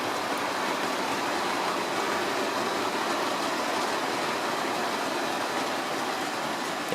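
A Bachmann Class 37 model locomotive pulls a model train, a steady, even running hiss and rumble that continues unbroken for several seconds, close and without voices.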